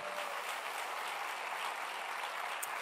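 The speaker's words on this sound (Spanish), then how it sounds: "dale un aplauso al Señor" Audience in a church service applauding, a steady dense wash of clapping that holds evenly throughout at moderate level, with no voices over it.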